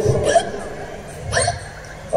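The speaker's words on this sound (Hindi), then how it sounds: "अरे इतनी तेज हिचकी आ रही है" A woman lets out loud, sharp hiccups: three abrupt yelps spaced about a second apart, close and clear over a faint background.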